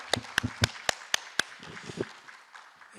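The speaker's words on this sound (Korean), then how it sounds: "박수로 환영해 주시면 감사하겠습니다." An audience at a Korean local autonomy society symposium gives a short burst of applause to welcome a visiting Japanese professor, six crisp distinct claps in quick succession, then a softer scattered patter fading out.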